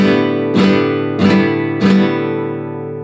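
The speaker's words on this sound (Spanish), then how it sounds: "este rajido es la sensación de que arrastramos los dedos en las cuerdas" Three sharp flamenco guitar rasgueo strums sound at even intervals, fingers dragged across the strings, each chord ringing out brightly and close before fading.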